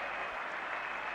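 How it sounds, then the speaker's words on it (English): A cricket crowd at Edgbaston during the 1981 Ashes bursts into loud, continuous applause and cheering for a fallen wicket, a dense wall of clapping with no pause. "And the crowd has gone noisily berserk."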